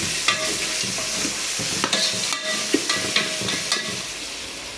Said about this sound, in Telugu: తెల్లగడ్డ అల్లం పేస్ట్ వేసాను ఎరగడ్డ బాగా వేగాలి ఫ్రెండ్స్